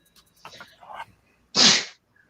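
A single sharp human sneeze bursts out close and loud after some faint soft vocal sounds, ending abruptly in quiet.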